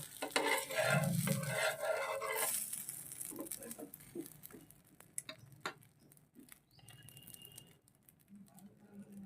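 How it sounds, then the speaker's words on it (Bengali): A healthy homemade tiffin snack being flipped in a pan, with a loud burst of scraping and sizzle early on, then quieter scattered taps and soft cooking crackle. "এবার এটাকে আমি উল্টিয়ে দেব"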